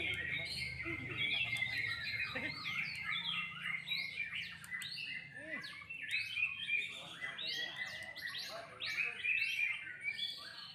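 Prinia birds sing a busy stream of sharp, high chirps and trills that repeats throughout, with faint background voices and low noise underneath.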